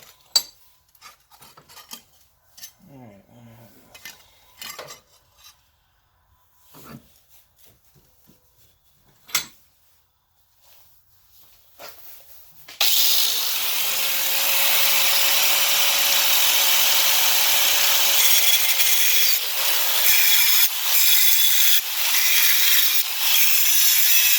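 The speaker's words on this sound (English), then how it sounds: "And we'll grind that down." A rusted-through lawn mower deck has its weld ground down: sparse metallic clinks and taps give way midway to a loud, steady grinder roar with a faint whine that holds to the end.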